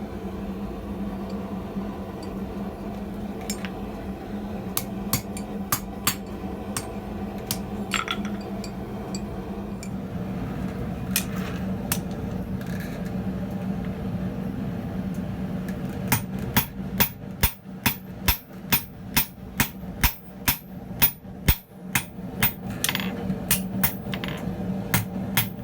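Hammer blows on a flatter held against tong jaws at an anvil, sharp metallic rings spaced irregularly at first, then settling into a fast, steady run of loud strikes near the end.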